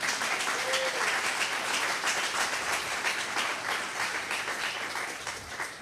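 A church congregation applauds throughout, a sustained, fairly loud wash of many hands clapping that holds steady and begins to ease near the end.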